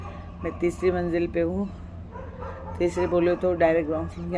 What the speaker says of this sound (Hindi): मगर वो मेरे कुत्ते इसलिए भौंक रहे